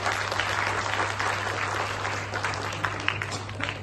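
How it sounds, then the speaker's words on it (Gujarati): Sustained applause for committee members at a speech event, steady clapping from a crowd at moderate distance, with a low electrical hum beneath it. "ફરી એકવાર જોરદાર તાળી"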